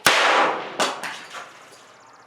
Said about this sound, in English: you clearly heard the pop of the fuse activating